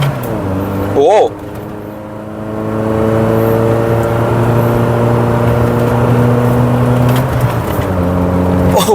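Mercedes-Benz C200 W202, freshly rebuilt after an engine overhaul, pulling away in first gear on a flat track: a steady, loud engine drone with harmonics rising in pitch and holding, a brief exclamation early on.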